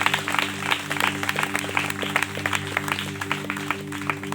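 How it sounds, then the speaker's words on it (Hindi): A church congregation claps to welcome the Lord, a loud, sustained round of many hands in a fast uneven patter, with a steady musical drone underneath. "ताली बजाकर प्रभु का स्वागत करें।"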